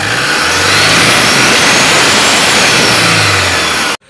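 A Toyota Hilux diesel with a 1KD engine runs after an injector driver repair. Its loud, steady mechanical clatter and rumble fill the clip without pause until a sudden cut near the end.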